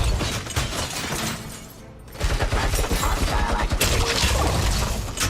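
Weapons fire in RoboCop: Rogue City, with dense bursts of loud gunfire, shattering and mechanical clatter, a brief lull near the middle, then sustained heavy shooting close up.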